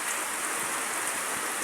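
Heavy rain pours down steadily in Kauswagan, a dense, loud, unbroken hiss of water drumming on surfaces close by.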